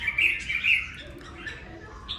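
A caged red-whiskered bulbul sings bright, warbling chirps in quick phrases, close and fairly loud, with a couple of brief pauses between bursts.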